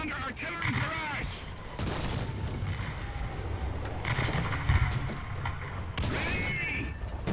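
Artillery barrage in War Thunder ground battle: repeated heavy booming blasts and crashing impacts roll through a noisy tank combat soundscape, several loud bursts spaced over a few seconds amid constant rumble.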